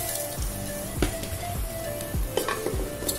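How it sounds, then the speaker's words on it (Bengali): Rice for biryani sizzles in a hot pot with fried potatoes, quiet crackling frying under repeated scraping stirs of a spoon against the metal, no voices. "চালটা ঢেলে দিলাম বিরিয়ানির জন্য।"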